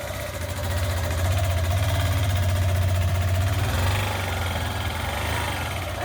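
A motorcycle engine runs at a steady low hum with a faint rattling vibration, holding an even level for several seconds before easing slightly.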